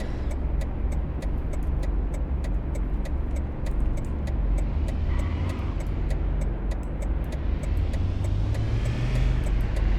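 A car engine drones at a steady, low rumble while driving in the City Car Driving video game on a winter road, with a regular faint ticking over the continuous hum and a brief higher whine midway.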